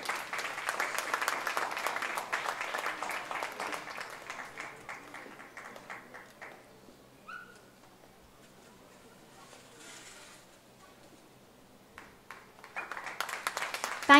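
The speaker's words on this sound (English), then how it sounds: "Huge round of applause, my dear friends." An audience at a charitable institution event for a visiting dignitary applauds in a dense, steady patter that thins out and fades to near silence midway, then swells again at the end.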